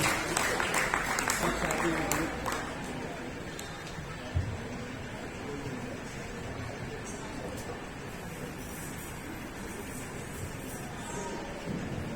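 Applause from the audience at a Jain society installation ceremony in Pune, honouring the directors; clapping fades within the first few seconds, then a quiet, murmuring room remains.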